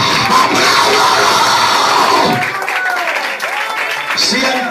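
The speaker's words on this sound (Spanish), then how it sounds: "Aplauda su nombre, gloria. Apláudalo." A church congregation at an evangelistic service claps and cheers loudly, dense applause mixed with shouting voices and music-like tones, close and continuous throughout.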